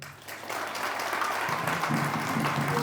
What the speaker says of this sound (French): Si vous êtes d'accord avec moi, il faut applaudir Dieu